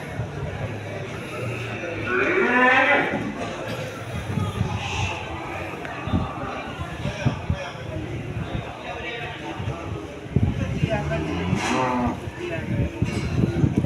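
Cattle, including Simmental crossed with Brahman-type cows, moo repeatedly at a busy livestock market, near and far, over a constant crowd murmur and people talking.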